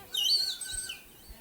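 A whistle imitating a koel bird call at a puppet show, a bright high chirping tone that rises and slides down, fairly close, with faint low thumps behind it.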